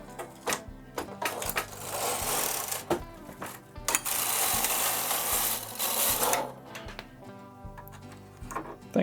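A Singer knitting machine carriage is pushed across the needle bed in repeated passes, giving rhythmic mechanical clacking and rattling with loud sweeping whirs between knocks, close and steady.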